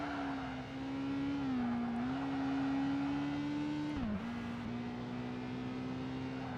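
A Honda S2000 engine races in Project Gotham Racing 2 with a steady high drone that rises and falls slightly as gears shift, continuous and fairly loud, with no talk.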